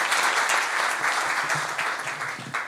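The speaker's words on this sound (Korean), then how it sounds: "큰 박수로 맞이해 주시면 감사하겠습니다." An audience at a military chaplaincy seminar applauds to welcome a professor to the stage, with dense, sustained clapping that stays loud and slowly thins toward the end.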